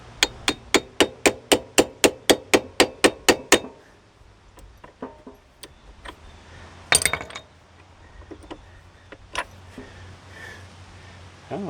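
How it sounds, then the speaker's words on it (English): Metal socket tapped onto a gearbox seal of a 2004 Yamaha Breeze scooter: about a dozen sharp, evenly spaced ringing hammer taps, then scattered softer knocks and clinks nearby, with no talk. "Try tapping a little bit more."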